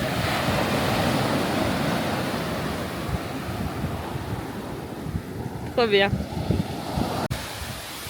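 Strong sea waves crash and roll onto a beach in a loud, continuous surf roar with wind buffeting the microphone, while a few words are spoken nearby over the noise.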